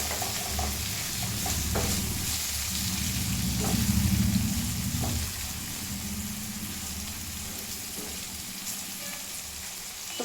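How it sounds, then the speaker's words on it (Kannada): Ginger and garlic fry in hot oil in a pan with a steady crackling sizzle, stirred now and then with soft scraping strokes; the frying swells briefly before settling to a gentler hiss. "ಬೆಳ್ಳುಳ್ಳಿ ಹಾಕಿ ಆಯಿತು. ಸ್ವಲ್ಪ ಫ್ರೈ ಮಾಡೋಣ."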